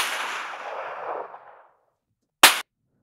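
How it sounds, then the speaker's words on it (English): Bullet crack effects from a sound library: a hissing, fading whoosh followed by silence, then a single sharp, bright crack. "So that would include some ricochets. And then these bullet cracks."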